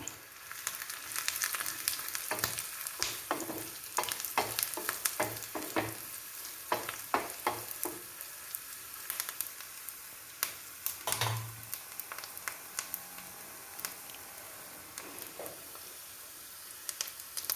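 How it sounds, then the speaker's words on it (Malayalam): Grated coconut frying in oil with dried red chilli and curry leaves for an elephant foot yam and pumpkin erissery: a constant close sizzle overlaid by rapid stirring scrapes and taps that thin out toward the end. "ഇനി അല്പം തേങ്ങ കൂടെ ഇടാം"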